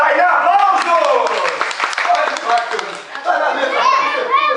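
A group of children applauds a girl named Tainá in a classroom-style activity, a short burst of scattered clapping mixed with children's voices and an adult talking over it.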